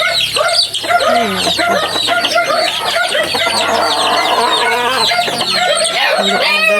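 Many chickens in a cage cluck and squawk loudly and close by, with overlapping calls and a rooster-like crow in a busy, continuous chorus.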